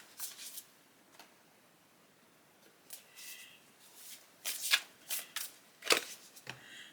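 Tarot cards being shuffled and drawn, a few soft riffling and sliding bursts followed by sharper card snaps, close and quiet with pauses in between and no talking.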